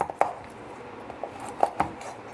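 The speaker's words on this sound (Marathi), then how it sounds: "तर बघा अशा छोट्या तुकड्यांमध्ये कापून घ्यायचं." A knife chops dried Bombay duck (bombil) fish into small pieces on a board, with a few sharp, separate thuds and clacks spaced irregularly over a quiet background.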